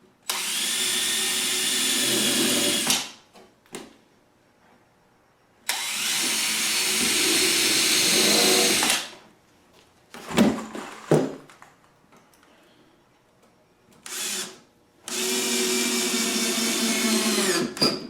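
Power drill driving screws into the upper case of a DIY 30-inch kitchen cabinet, three long loud bursts of whirring drive with short pauses and small knocks between them, close and with no talk.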